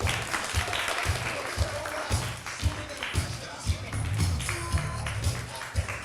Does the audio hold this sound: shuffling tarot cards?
no